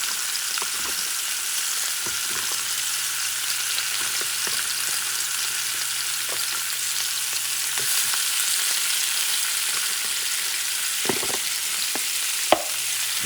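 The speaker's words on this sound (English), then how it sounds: "I'm going to put some of the onions now." Sliced onions for liver with onions frying in a hot pan, a steady continuous sizzle with occasional stirring clicks and scrapes, close and fairly loud with no talking.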